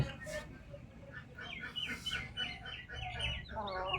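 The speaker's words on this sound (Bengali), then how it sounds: "ওই দেখেন মুরগি কীভাবে বিরক্ত করতেছে" Chickens cluck and call in a home vegetable yard, several short bursts repeating through the clip at moderate distance, over steady background noise.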